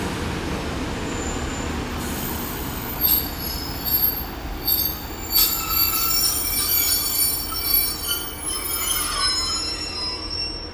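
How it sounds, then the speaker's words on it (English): Class 143 Pacer train coupled to a Class 150 unit rolling through Exeter Central station, a low steady rumble with shrill wheel squeals rising and falling over several seconds, no talking. "Good old bouncy pacer at the front with a 150 at the back."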